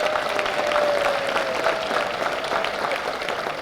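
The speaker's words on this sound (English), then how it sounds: "Please give them a round of applause." Audience applause for a sponsor at a university honours program. Steady, dense clapping from a sizable crowd continues loud and unbroken throughout, with a faint tone running beneath it.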